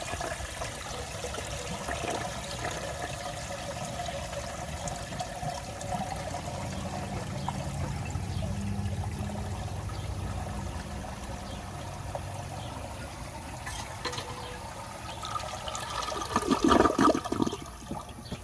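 A 1959 American Standard one-piece toilet flushes with a steady rush of water, then pulls into a gurgling siphon near the end, close and alone without talk.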